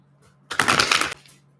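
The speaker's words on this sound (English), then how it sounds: "Wow, that's not how I wanted to shuffle my cards." Tarot cards shuffled loudly in a brief, dense flurry of riffling and slapping, lasting about half a second, close and alone against a quiet background.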